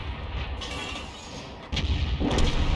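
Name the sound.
tank gun shot from video game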